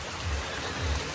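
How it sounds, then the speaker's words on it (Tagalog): Steady rainfall hisses softly and evenly, a dense patter with no voices. "Ulan na oh."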